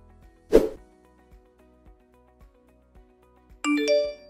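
A phone starts ringing with a bright, tonal electronic ring near the end, after a sharp thud and a series of faint, evenly spaced ticks.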